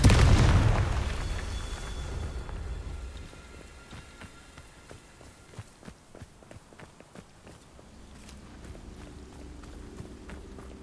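An explosive Confringo spell in the game Hogwarts Legacy bursts as a loud low boom at the start and fades out, followed by a quick run of footsteps and debris clatter.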